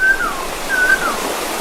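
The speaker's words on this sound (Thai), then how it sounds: "ฟังเสียงน้ำไหล" A natural stream in Laos runs with a steady, even rush of water. A couple of thin, high chirping tones ride briefly over the flow.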